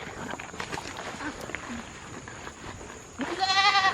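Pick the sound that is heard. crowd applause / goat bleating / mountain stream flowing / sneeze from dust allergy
goat bleating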